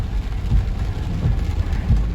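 Heavy rain falls on a residential street in Khon Kaen, a dense, steady low rumble and wash of water with a few deeper surges, close and loud with no talk.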